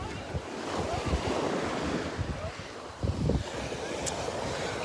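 Ocean surf rolls in at Rockaway Beach under steady wind, with a constant wash of waves, buffeting wind noise on the microphone and a brief surge of breaking water near the middle.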